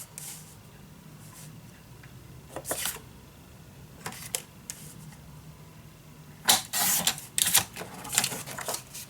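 Paper is cut down for a Roaring Twenties mini album, with scattered sharp snips and slicing strokes that come in several quick bursts near the end over a quiet room.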